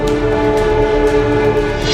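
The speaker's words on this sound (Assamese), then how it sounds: "নতুন দিল্লীৰ পৰা ডিব্ৰুগড় অভিমুখে চলিল বিশেষ ৰেল" A special passenger train departs from New Delhi for Dibrugarh, heard as a loud, close, steady rumble of rolling rail cars with sustained tonal horn-like hum and faint rhythmic clatter.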